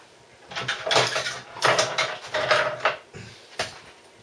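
A small screwdriver pries the centre cap off a Megaminx puzzle, giving a close run of scraping, clicking and creaking plastic bursts with short pauses between them.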